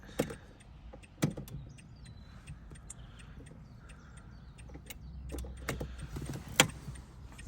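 A key goes into the ignition of a Renault Clio, with metallic jangling and clicks, a few sharp knocks and some faint high electronic tones spread over a quiet car interior.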